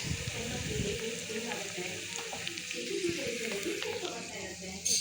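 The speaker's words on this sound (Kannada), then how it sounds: "ಚೆನ್ನಾಗಿ ಒಗ್ಗರಣೆ ಎಲ್ಲ ಆದಮೇಲೆ ನಾವು ಮಾಡಿಟ್ಕೊಂಡಿರೋಂಥ ಮಿಶ್ರಣಕ್ಕೆ ಹಾಕ್ಬಿಟ್ಟು ಕಲಿಸ್ಬೇಕು ಚೆನ್ನಾಗಿ" Hot tempering is stirred into a raw mango pickle mixture, giving a steady, close sizzle with soft scraping and mixing throughout, and a voice faintly present underneath.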